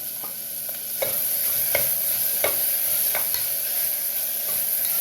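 Chopped onion sizzles in an oily pan with a constant hiss, broken by a few scraping stirs of a spoon, while tomato and amaranth leaves wait to go in; no voices are heard.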